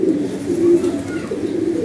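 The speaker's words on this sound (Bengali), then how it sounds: "একদম পুরাতন ব্রিডের একটা কবুতর" An old-breed pigeon coos in a steady, low, rolling series of calls, close and clear, with no talk over it.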